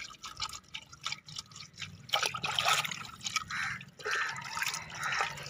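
Water splashes and trickles as raw chicken pieces are washed by hand, close and moderately quiet, with irregular drips and pouring bursts and no talking.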